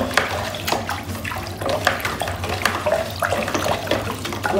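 Soda ash is stirred into a container of water for homemade bleach. Continuous close sloshing and swirling of liquid runs steadily throughout, with no talk.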